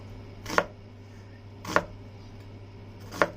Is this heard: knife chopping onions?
yes